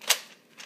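A light toy gun with a pop-out barrel fires a single sharp, close crack near the start, followed by a brief faint rattle and quiet.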